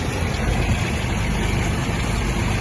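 Kubota GB-20 mini tractor engine running in third gear with the mower blades engaged, a steady dense mechanical drone without pauses, close and fairly loud.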